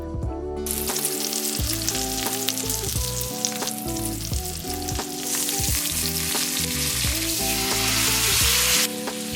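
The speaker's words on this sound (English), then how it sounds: "if you hear the sound when you lay your steak onto the skillet, that is a good sign to get it crispy" Steak sizzles loudly in a hot skillet, a dense continuous crackle with occasional scraping and stirring sounds.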